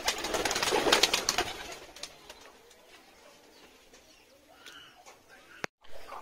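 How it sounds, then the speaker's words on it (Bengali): Pigeons in a village setting make soft, low cooing calls early on, with a brief flutter of activity, then fading to quieter ambience with faint bird sounds. "তো গাইস কিছু পায়রা উড়েছে আর কিছু পায়রা বসে আছে"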